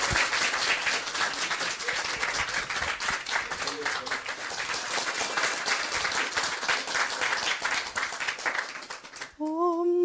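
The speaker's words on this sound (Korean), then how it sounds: "박수." A congregation applauds at a religious gathering, a continuous, fairly loud clapping that runs nearly ten seconds before cutting off as a singing voice begins.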